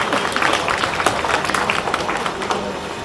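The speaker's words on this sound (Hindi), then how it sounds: "जोरदार तालियों से इनका इस्तेकबाल कीजिए" A crowd at a postage stamp release ceremony honouring a social worker claps loudly to welcome a guest, dense continuous applause filling the whole stretch with no voices standing out.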